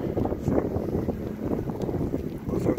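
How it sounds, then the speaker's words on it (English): Steady low rumbling wind buffets the microphone throughout, a continuous gusty roar with no clear talking. "it's kind of windy"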